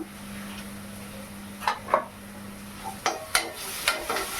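Curry leaves and mushrooms frying in a pan, heard as a soft background sizzle with a scattering of short spatula scrapes and clicks toward the end and a low hum that stops midway.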